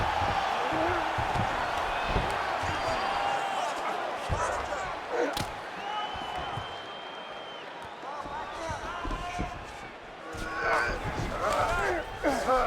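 Crowd cheering in the UFC 5 fighting game as two fighters climb back to their feet after a long grappling exchange, a steady roar with swells and sharp bursts under a commentator's talk.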